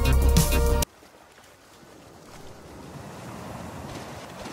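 Ocean waves in a video game world, stuck out at sea near islands; after a loud abrupt burst at the start cuts off, a soft continuous wash of surf and wind rises gradually and holds steady.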